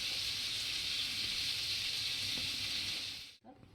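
Chicken tandoori pieces sizzle in butter on a tawa, a steady close hiss that runs evenly before cutting off abruptly, leaving a short faint rustle.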